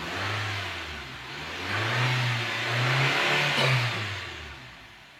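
A 2014 Nissan Juke RX engine is revved before a tune-up, rising and falling through a few steady rev swells over a low, even drone, close and fairly loud with no voices.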